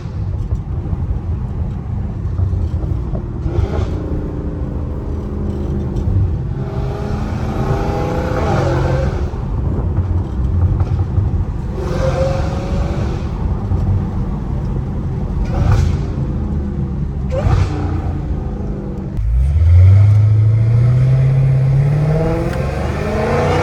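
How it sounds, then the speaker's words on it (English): A Dodge Hellcat Redeye with a titanium catless exhaust accelerates hard, its loud, close engine rumbling through several rising revs and pulls, then ending in a deep, surging roar. "this car sounds crazy, bro. After I put titanium pipes in this thing, it changed the whole thing."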